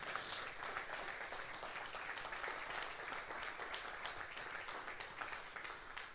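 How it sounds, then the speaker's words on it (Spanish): A church congregation claps, making a moderately faint, even, continuous patter of many hands throughout. "Denle un aplauso."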